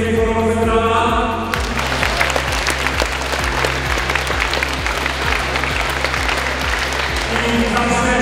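Warm crowd applause for wrestlers at a Polish primary school wrestling championship, a dense, sustained clapping in a large hall, layered over a loud pulsing musical backing that opens with a sustained tone before the clapping swells.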